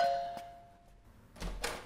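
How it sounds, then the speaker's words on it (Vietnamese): A doorbell rings in an apartment at night, giving a single clear chime that fades out. A shuffle of noise follows near the end, and no one speaks. "Cô có chìa khóa thì bấm chuông làm cái gì nữa?"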